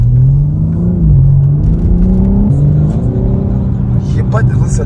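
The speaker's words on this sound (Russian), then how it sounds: "все равно очень охуенно звучит стоковый выхлоп" A BMW M4 G82 with its stock exhaust rumbles loudly as it revs and accelerates on a city street at night, with the engine pitch rising and dipping in waves.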